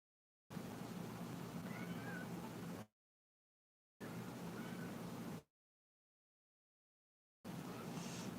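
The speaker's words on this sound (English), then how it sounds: "Yeah, the cats are a bit stressed." Stressed cats meowing in three long, steady bursts separated by silent gaps, each lasting a couple of seconds and fairly faint, with no voices.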